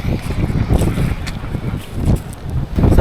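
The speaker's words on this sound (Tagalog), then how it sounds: "Sobrang lakas na hangin" Strong wind buffets the microphone during a motorcycle ride in Batangas, a constant rough roar with gusty surges and no clear voices.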